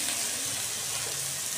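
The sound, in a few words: onion and spices frying in a pan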